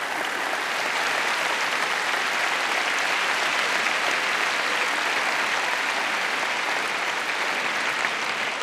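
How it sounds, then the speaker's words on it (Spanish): Dense, steady applause from a large crowd at a Socialist party (PSC) general election rally for the 2019 Spanish elections, honouring local mayors; the clapping fills the space evenly and loudly from start to finish with no voices on top. "un aplauso para ellos y ellas"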